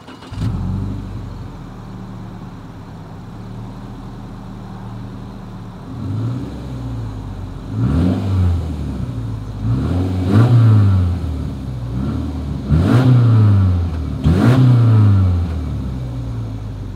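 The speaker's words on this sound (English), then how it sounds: "As always, here is that exhaust clip." A 2021 Subaru Crosstrek's exhaust idles at a low rumble, then is revved in four or five short, rising bursts, each climbing and falling back, loud and close.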